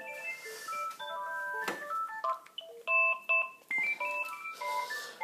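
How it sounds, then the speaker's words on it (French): Electronic telephone ringtone plays in a quick melodic series of beeping tones, with short bursts and pauses, fairly clear and up front, no talking. "Alors il y a le téléphone qui sonne."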